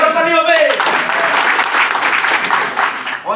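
An audience breaks into sustained, dense applause at a Bengali business and sales talk, loud and close throughout, with a bit of speech audible just at the start.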